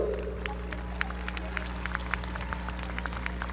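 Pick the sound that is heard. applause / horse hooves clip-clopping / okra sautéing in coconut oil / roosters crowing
applause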